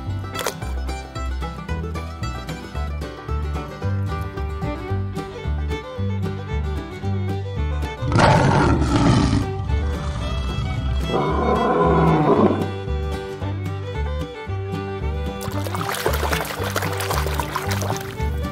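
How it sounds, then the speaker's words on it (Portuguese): A lion roar sound effect rises loudly over a bouncy music track, a single rough, sustained roar lasting a few seconds in the middle before the music carries on alone. "Leão."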